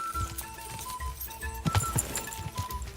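Horse hooves clip-clopping in the video game Kingdom Come: Deliverance 2 on hardcore mode: quick, irregular hoofbeats at moderate volume, with a faint snort-like sound partway through.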